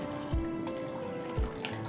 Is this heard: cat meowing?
no